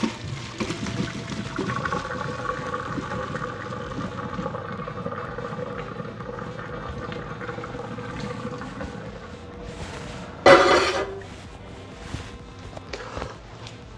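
Boiled potato fries tip from a pot of boiling water into a colander, a steady rushing pour of water for several seconds, then a brief loud clatter near the end.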